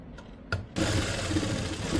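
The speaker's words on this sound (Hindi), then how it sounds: "ये वाली सिलाई हम दोनों तरफ कर लेते हैं।" A sewing machine stitches a fabric joint, a brief start then a steady, fairly loud running whir of the needle for over a second, close up with no voices.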